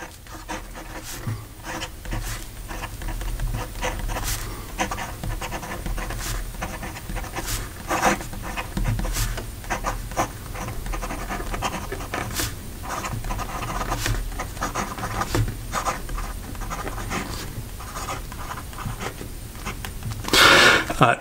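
Visconti Watermark fountain pen with a gold fine nib writing on paper, giving soft scratchy strokes and small taps in a quiet room, faint and steady, with a louder rustle near the end.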